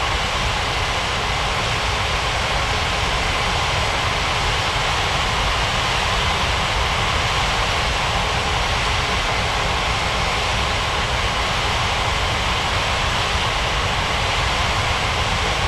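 Jet engines of a Thai Airways Airbus A380 during pushback and taxi roar as a loud, steady broadband rush that fills the whole stretch without a break.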